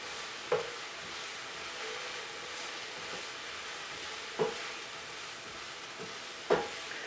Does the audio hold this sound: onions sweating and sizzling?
yes